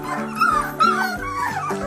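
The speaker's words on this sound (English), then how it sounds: "You learning your barks?" Several young puppies yip and bark in short, high overlapping bursts, close by and fairly loud, with whimpery tones between barks.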